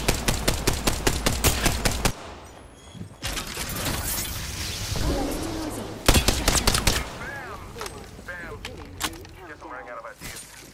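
Rapid gunfire from the Apex Legends video game, with a steady burst of evenly spaced shots, a dense stretch of fire, then another volley, loud and close under players' voices calling out.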